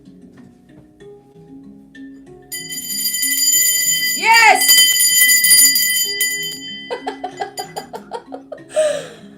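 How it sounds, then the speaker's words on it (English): A handheld bell rings in bright, sustained metallic tones, then shakes in a quick run of short rhythmic strikes near the end, close and loud, with a brief exclamation and laughter in between. "Hang on, I'm going to get my bell."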